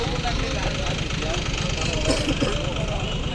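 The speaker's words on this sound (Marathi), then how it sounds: "पेट्रोलच्याच ह्याच्यावर कुट्टी मशीन आहे आपलं इकडे बघू शकता तुम्ही." A petrol engine drives a chaff cutter at an agricultural exhibition, giving a steady, fairly loud mechanical drone with rapid low thumping throughout, a voice talking over it amid background crowd noise.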